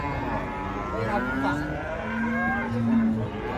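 Cattle being unloaded from a truck moo several times, long low calls over a busy background of people talking and vehicle noise nearby.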